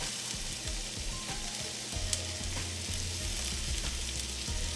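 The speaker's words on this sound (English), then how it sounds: "So let's get this sauteed up" Ground meat sautéing in a little cooking oil in a pan, a steady close sizzle and frying hiss that runs throughout with occasional stirring clicks and no talking.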